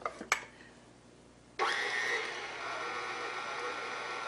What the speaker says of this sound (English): So we're going to put it on the mixer now. We're going to mix on first speed for a total of 3 minutes.